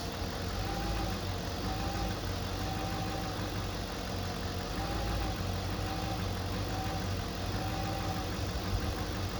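A 2007 Cadillac SRX engine idles unevenly, a steady close mechanical hum and rumble with slight knocking that runs throughout.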